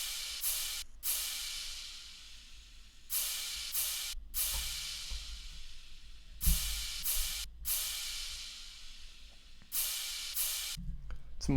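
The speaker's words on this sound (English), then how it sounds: "Crash sounds like this." A crash cymbal sample in a hip-hop beat, several bright washing crashes that cut off abruptly, repeating at roughly regular intervals over a faint low kick pulse, fairly quiet, no voices.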